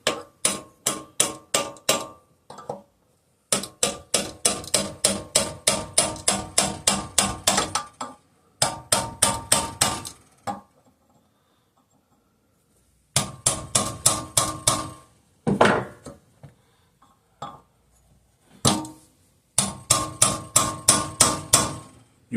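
A hammer taps a chisel wedged between the thick cast iron cooling fins of a 5hp Briggs and Stratton engine, firing off sharp metallic strikes in fast bursts separated by short pauses.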